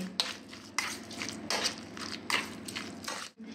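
A spoon stirs cucumber salad (kakdichi koshimbir) with yogurt, sugar, chopped chilli and crushed peanuts in a bowl, giving four or five soft wet scraping strokes in a steady rhythm, close and clear, with no talk.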